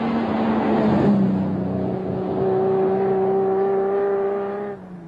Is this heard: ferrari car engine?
yes